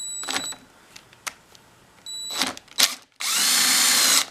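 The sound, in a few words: power drill removing screws from Echo PB-500T blower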